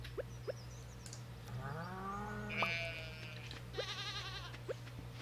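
Goat bleating in the farming video game Stardew Valley, a single wavering, nasal bleat in the middle of the clip. It rings out clearly over a steady game background hum, with a few soft clicks around it.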